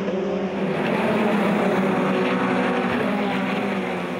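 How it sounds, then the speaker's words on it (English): GTC touring cars racing at Killarney circuit, a continuous loud engine roar that swells slightly as the cars pass close by, with no voices. "Back out on track, Moss now all over Fourie like a rash"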